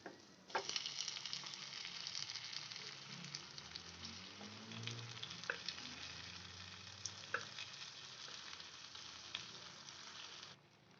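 Cooked dal and cabbage being stirred into sautéed onion and green chilli in a pot for cabbage kootu, a soft continuous sizzle with scattered scraping clicks of a spoon, fairly faint and without talk.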